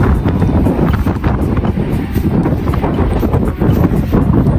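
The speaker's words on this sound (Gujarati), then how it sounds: "ફોન આખો હલવા માંડ્યો, એટલો બધો પવન આવે છે." Strong storm wind gusts in Surat, India batter the microphone with a loud, continuous rumbling roar throughout, with no voices.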